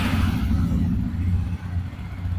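A 2023 Jawa 42 motorcycle engine starts and rumbles steadily at idle in neutral, a low continuous throb filling the space close by.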